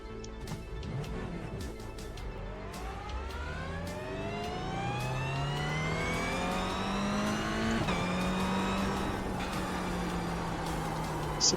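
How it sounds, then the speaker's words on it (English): A Toyota GR86 race car engine in the iRacing game runs loud and steady throughout, its pitch climbing repeatedly as it revs, with a brief sharp knock near the end. "Car started."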